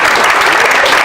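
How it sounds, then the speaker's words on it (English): A brief, loud burst of audience applause, many people clapping together at close range for about a second. "So, again, a round of applause."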